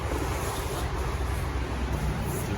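Steady wind blows outdoors around a canvas tent being put up, a constant loud rushing roar with buffeting gusts and no speech.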